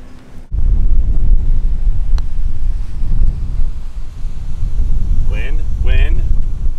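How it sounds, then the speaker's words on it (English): Heavy wind buffets a microphone outdoors on a golf course, a loud continuous low rumble throughout, with a brief voice near the end. "Wind."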